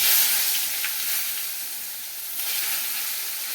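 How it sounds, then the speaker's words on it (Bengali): Eggplant fries in hot oil in a pan with a continuous close sizzle and hiss, swelling slightly at times when the pieces are moved, and nobody speaking. "আলুটা ভাজা হয়ে গেছে, এবার বেগুনটা ভেজে নেব।"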